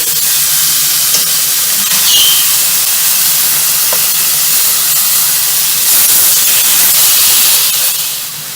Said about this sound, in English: As we turn over, our steak's getting a nice color to it.